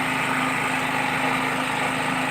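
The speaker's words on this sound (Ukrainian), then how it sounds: "Виключаємо генератор. Ось генератор." Petrol generator running steadily at close range, a constant mechanical hum with a faint rhythmic engine pulse, no voices.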